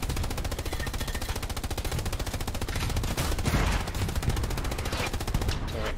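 Steady rapid automatic gunfire from an AT gun in Hell Let Loose, a fast even stream of loud shots rattling on for several seconds amid battlefield rumble, no talking.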